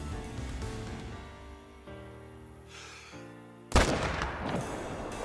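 A rifle shot fired at an albino lion while hunting in theHunter: Call of the Wild, a single loud, sharp crack cutting in abruptly after a stretch of quieter ambient game sound.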